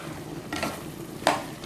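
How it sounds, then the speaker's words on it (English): Okra gets stirred in a cooking pot over a soft background sizzle, with two distinct scraping strokes about three-quarters of a second apart, the second one sharper and louder; no talking. "Alright, so the okra has been added. Let me stir it a bit."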